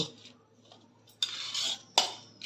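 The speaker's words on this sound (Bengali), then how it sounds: "এখন আমি এই সমস্ত মশলাগুলোকে সুন্দর করে মেখে নেব" Washed rice being mixed with spices in a bowl, faint soft stirring followed by two sharp metallic clinks of a utensil against the bowl, close.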